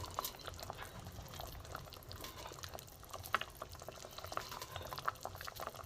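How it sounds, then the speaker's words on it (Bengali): Lentil dhoka dumplings go into a simmering gravy, giving a soft, steady bubbling and burbling with scattered small plops and drips, quiet and close, with no voices. "এবার আমি এই ধোকাগুলো এই ঝোলের মধ্যে দিয়ে দেবো।"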